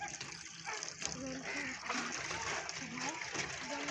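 Water from a village hand pump splashes and trickles into a bucket, a soft continuous spatter heard faintly at a distance beneath voices talking nearby.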